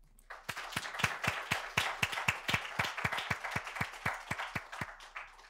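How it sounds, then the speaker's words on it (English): A small group claps for the USDA Deputy Secretary at Virginia State University, a soft, fairly quiet run of distinct hand claps in a loose steady rhythm that lasts several seconds. "let's give our 15th USDA Deputy Secretary a round of applause"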